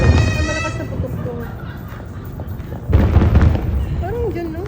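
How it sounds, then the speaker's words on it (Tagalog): Loud fireworks booming at New Year in Dubai, a heavy burst with a long rumbling tail, then a second strong blast a few seconds later, with people talking and exclaiming nearby. "Ang malakas na putok to"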